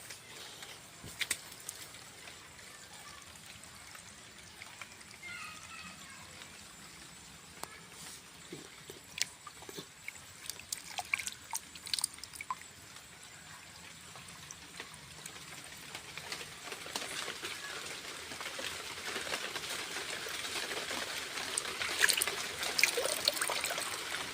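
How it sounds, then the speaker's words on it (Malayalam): Water trickles and splashes steadily from a borewell for the whole stretch, with scattered drips and gurgles, growing a little louder and fuller toward the end. "ഏഴ് വർഷം മുമ്പ് കുത്തിയ കുഴൽക്കിണറാണിത്. അന്ന് മുതൽ വെള്ളം ഇതേപോലെ പോയിക്കൊണ്ടിരിക്കുകയാണ്"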